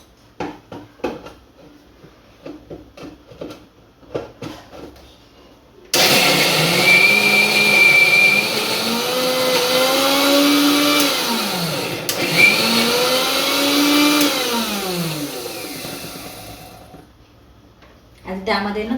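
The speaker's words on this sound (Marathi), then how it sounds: "आणि आता आपण मिक्सरमध्ये बारीक करून घेणार." A kitchen mixer grinder whirs loudly as it blends moong, ginger, garlic and green chillies, its motor pitch rising and dipping for about eleven seconds after a stretch of talk, then stopping as speech resumes.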